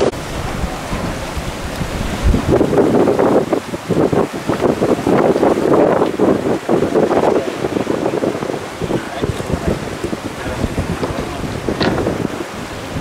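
Westin resort speedboat crossing the sea in the Maldives, with steady rushing wind across the microphone and churning water and waves throughout, loud and continuous with no voices.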